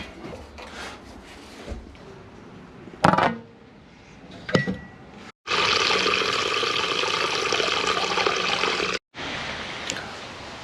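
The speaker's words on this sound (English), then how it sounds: "next step is we're gonna drain the water heater" Water rushes steadily through a hose for several seconds as a water heater is drained, preceded by a few metallic clanks and knocks, with a brief pause mid-flow.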